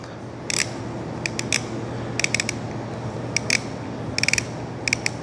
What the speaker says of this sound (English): let's take a listen on the clicker and see what she sounds like